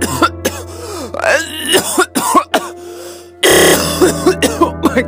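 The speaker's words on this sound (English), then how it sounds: "there's blood in my cough" A series of harsh, wet coughs and throat-clearing bursts come close and loud in uneven clusters, with a steady electronic hum in the background that jumps to a buzzing tone partway through.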